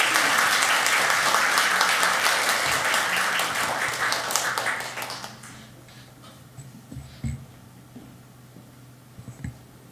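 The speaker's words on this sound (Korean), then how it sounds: "큰 박수로 우리 두 분 격려하도록 하겠습니다." Congregation applauding at a Sunday church service to welcome two guests, a dense wash of clapping that holds for about five seconds, then fades out, leaving scattered faint knocks and room noise.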